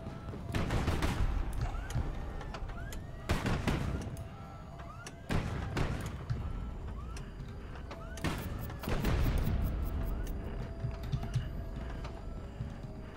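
Sharp bursts of gunfire and cannon shots crack out in clustered volleys during a Highfleet battle, loud and close, separated by short quieter gaps over a faint background hum.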